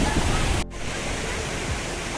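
Manche waterfall in Devgad: a dense, unbroken roar of falling water, loud and near, with a brief dip in level partway through before the steady rush continues.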